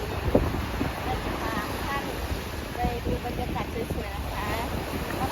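Wind buffets the microphone at the seaside on Hua Hin beach, with a steady rushing roar and faint surf beneath, while someone talks over it.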